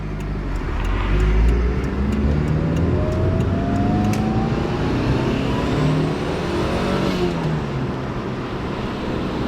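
A Mitsubishi Evo V with a recirculated blow-off valve drives steadily, its engine droning loud and close with rising gear pulls, while any valve sound stays muffled under the road and engine noise.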